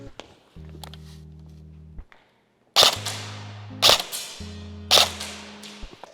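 Three sharp snaps from an Elite Force HK416 airsoft rifle shooting at a steel gong about a second apart, each followed by a brief metallic ring, with low mechanical hums between them.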